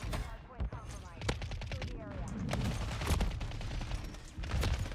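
Rapid bursts of WSP-9 submachine gun fire crack through a Call of Duty: Modern Warfare III match, close and punchy, mixed with other gunshots and game noise.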